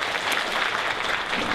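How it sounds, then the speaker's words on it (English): Audience at a comedy magic show applauds a volunteer returning to his seat, a full, steady burst of many hands clapping, loud and close, with no voices over it. "A big round of applause for Spencer"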